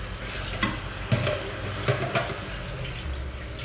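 Peanuts go into a chicken-free Nicaraguan curry frying in a pan, a steady sizzle with a few soft knocks and clatters of stirring, close and without talk.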